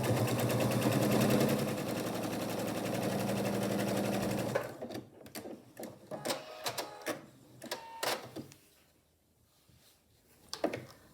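A sewing machine runs steadily as it stitches quilt block fabric, a loud, continuous mechanical whir for about four seconds. It stops, and then come scattered handling clicks and taps.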